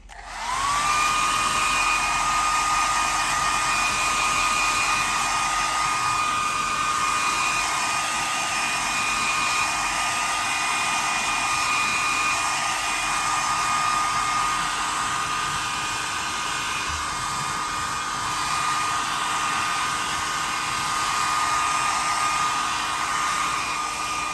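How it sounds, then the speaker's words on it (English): A dryer blows a steady, loud, continuous whoosh across a wet leather steering wheel from a Jaguar XK8. The whirring airflow runs unbroken for over twenty seconds with no speech. "Obviously we're going to need to dry that very, very quickly, so let's just give that a dry."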